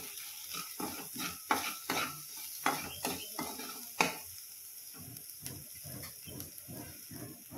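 A spoon scrapes and stirs turmeric and salt in a pan in rhythmic strokes, soft sizzling beneath and a few sharper metallic clinks, fairly close and quiet, no talking.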